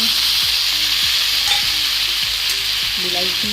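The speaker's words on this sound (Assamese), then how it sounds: "এতিয়া দিম বিলাহীখিনি" Tomatoes fry loudly in a pan for masala Maggi, with a constant close sizzle and repeated scraping stirs of a spoon against the pan in a rough rhythm, with no talking.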